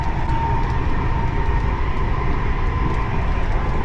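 A passenger train runs fast on Czech railway track at around 100 km/h, giving a steady, loud, continuous rumble and wheel roar throughout with no break.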